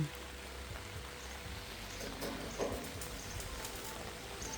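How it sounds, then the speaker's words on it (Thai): Rain falling in a garden, a steady soft hiss of drops on plants and surfaces, continuous and fairly faint, with a few brighter patters and no talk. "ถ้าฝนตกแบบนี้เนาะ ต้นไม้ก็จะได้สดชื่นนะคะ"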